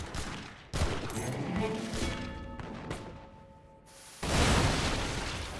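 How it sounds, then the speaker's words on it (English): Dynamite explosions and rolling fire in a strategy video game, a dense fusillade of booms and blasts that swells, dips briefly, then bursts loud again near the end. "Dynamite going everywhere."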